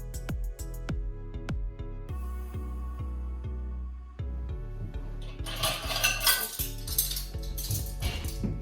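Metal cutlery and a dessert spoon clink and tap against Willow China plates while a table is set, a series of bright, close, separate ringing knocks with short pauses between them.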